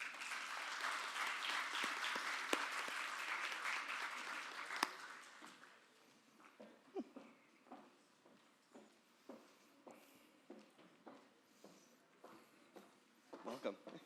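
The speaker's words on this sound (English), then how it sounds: "let's please give our panelists a welcoming round of applause." Audience applause welcoming panelists at a 50th anniversary executive panel event, a dense roar of clapping for about five seconds that thins into scattered individual claps and room sounds.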